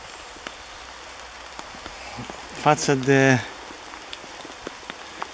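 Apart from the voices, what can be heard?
rain falling on a tent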